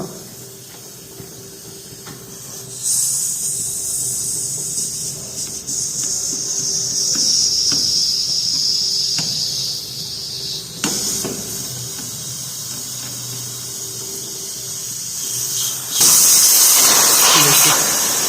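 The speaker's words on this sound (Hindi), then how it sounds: "ये कंप्रेसर ख़राब है, इसके अंदर गैस है, इसलिए आवाज़ कर रहा है।" Pressurised gas hisses loudly from a faulty refrigerator compressor during a compressor replacement, a steady bright rush that swells in bursts and surges strongly near the end.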